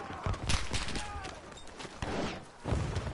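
Sniper gunfire in a war video game: several sharp shots and bursts scattered across a noisy battlefield mix, moderately loud, with voices talking over them.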